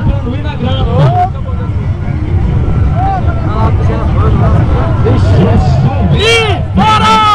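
A race car accelerates hard on a racetrack, its engine revving in rising and falling sweeps, with crowd chatter and loud voices over it throughout.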